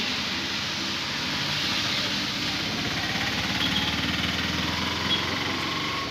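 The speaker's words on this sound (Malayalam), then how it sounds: "പിയാജിയുടെ ആപ്പ പാസഞ്ചർ വാഹനമാണ്." Piaggio Ape passenger vehicle engine running steadily, a continuous buzzing small-engine drone with a light high-pitched rattle, close and even throughout, with no voices and no change in speed.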